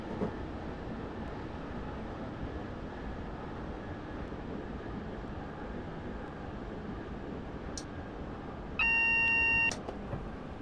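Inside a train running out of Glasgow Central toward North Berwick, a low steady rumble of wheels and motor runs throughout, and a short tonal electronic beep sounds near the end.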